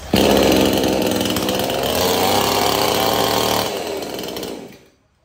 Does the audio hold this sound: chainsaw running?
yes